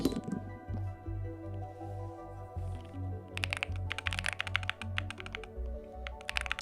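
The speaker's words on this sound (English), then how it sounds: "let me put the mic directly up against the keyboard? See if you can hear it." Computer keyboard typed on with the mic pressed right against it, starting with a low hum and a few soft presses, then a fast run of sharp, crisp key clicks coming in bursts at close range.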